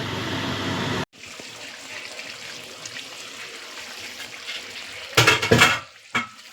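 Shrimp curry with kohlrabi and potato bubbles in a pot. A loud sizzling boil drops to a softer, steady simmer under a lid, followed by a few sharp metal clanks from the pot and lid near the end.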